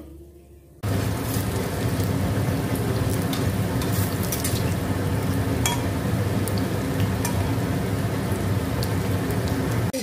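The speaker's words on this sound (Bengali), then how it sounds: "এবার বাকি কটা ভেজে নিই আমি।" Corn pakoras deep frying in hot oil, a dense, loud, continuous crackling sizzle that bursts in abruptly after a quiet start and holds steady throughout, with no voices.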